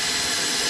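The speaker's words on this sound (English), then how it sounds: "Pretty easy to get a drill in there." A steady high-pitched power drill whirs continuously at close range, boring a hole in a kayak, with no pauses or talking.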